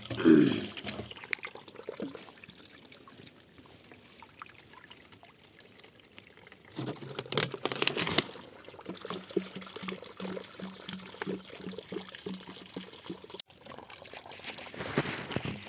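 Water pours from a bottle and trickles in a steady stream, with a louder gush midway, then continues dribbling at a moderate level.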